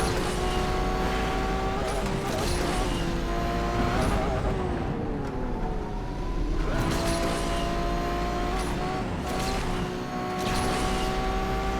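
A Lamborghini Revuelto races in the Asphalt 8 video game, its engine droning loudly and steadily with rising and falling revs and brief tire squeals throughout.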